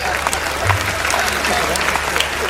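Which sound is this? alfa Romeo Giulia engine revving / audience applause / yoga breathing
audience applause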